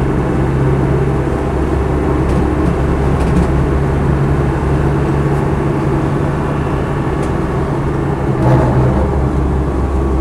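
A Land Rover Defender 90 hardtop with a 200Tdi diesel drives along, heard from inside as a loud, steady low engine drone with road rumble that stays constant throughout.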